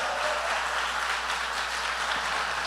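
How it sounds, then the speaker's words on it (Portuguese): A church congregation applauding Jesus, a dense and steady wash of clapping from many hands that fills the room at an even level, with no voices heard over it. "Aplauda Jesus bem forte, igreja."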